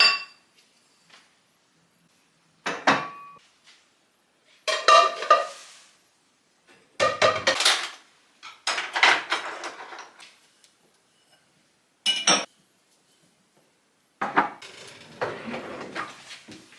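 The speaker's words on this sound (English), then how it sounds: "Need to clean up the dishes. These are the clean ones actually. I just need to put them away." Clean dishes being put away in a kitchen, with separate bursts of clinking crockery, cutlery rattles and knocks of cupboards or drawers spaced a second or two apart, close and fairly loud with nobody talking.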